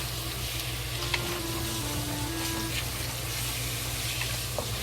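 Pork slices frying slowly in a pot, a steady close hiss of sizzling fat running evenly throughout with a few faint clinks, no talking.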